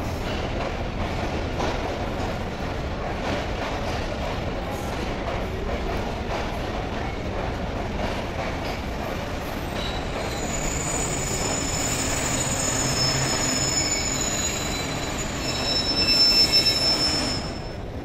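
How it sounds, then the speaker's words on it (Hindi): A Green Line Parlour train arriving from Karachi toward Islamabad slows with a long, loud rumble of wheels on rails, and a piercing high squeal of braking wheels rises near the end, no voices heard. "हवेली से ये ट्रेन आई।"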